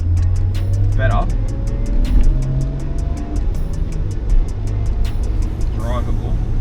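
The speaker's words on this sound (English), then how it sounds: "It's wanting to sort of bog down. It's getting a mad drone at the intake." An RB30 engine in an R31 Skyline running cold and rough, a loud low steady drone at the intake with a sagging, bogging tone and faint rhythmic ticking above it.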